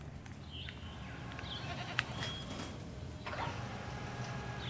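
Several short goat bleats from the video game Jurassic World Evolution sound over a steady noisy background, with a sharp click partway through and no talking.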